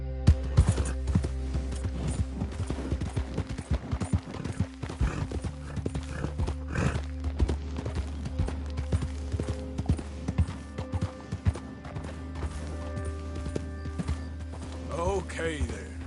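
Hooves clip-clop steadily as a horse runs in Red Dead Redemption 2, with a whinny near the end and a voice speaking briefly over the galloping.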